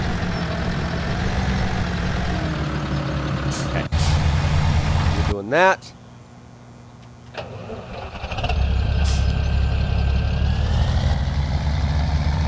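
Tractor engine in the video game Farming Simulator 2017, a steady low rumble with an engine start and air-brake hiss midway, revving back up loudly near the end, with someone talking over it.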